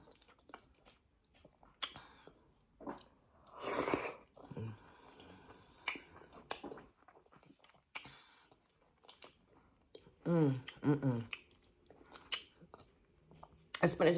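Wet, squishy chewing of spicy cooked spinach at a mukbang meal, close to the microphone, in short irregular bursts with small clicks and smacks between quieter pauses.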